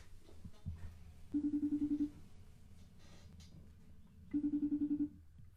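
Two bursts of rapid electronic phone ringing from a call placed in a studio, each about a second long, separated by a quiet pause with faint background noise.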